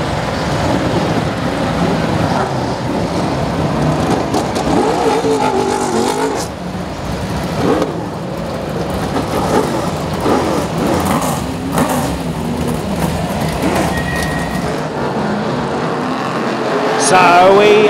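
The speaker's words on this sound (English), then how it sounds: "So we are racing once again in the World Championship semi-final for the Formula One stock cars." BriSCA F1 stock cars race in a World Championship semi-final at Kings Lynn, their engines a continuous loud, rough roar rising and falling as they pass, while a commentator talks over the noise.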